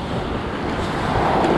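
Sea surf washing steadily onto a sandy beach at Anapa during a crowd swim, a continuous broadband roar with wind buffeting the microphone and no break in the noise.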